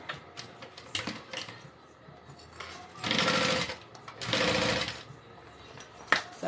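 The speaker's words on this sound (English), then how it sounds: "I'm just going to sew really slow around those curves, making sure that my fabric is in place" A sewing machine stitches fabric for a backpack, running slowly around curves in two sustained bursts with short stops, soft clicks and fabric handling between, heard close with no talking.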